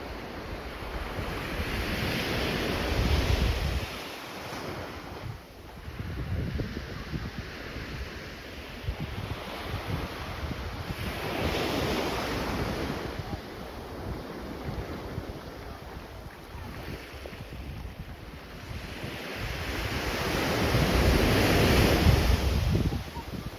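Sea waves wash onto Jungle Beach in Unawatuna, Sri Lanka, in steady surging swells that rise and fall every few seconds, with wind buffeting the microphone and the last surge growing loudest.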